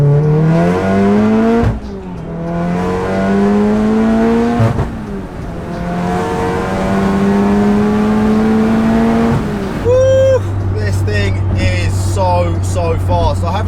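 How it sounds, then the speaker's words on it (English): A tuned 700 hp VW Golf R engine revs up hard through the gears, pitch climbing repeatedly with brief drops at each shift, loud and close. "kind of best to get the car rolling and then put your foot down"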